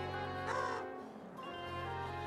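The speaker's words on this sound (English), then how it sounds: "Bird noise." Crow-like caws from a bird in the Paper Mario: The Thousand-Year Door video game, a short run of loud harsh calls over steady game music.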